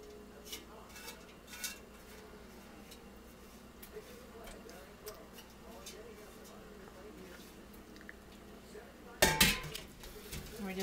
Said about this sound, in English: We're just going to swish them around in the ice cold water.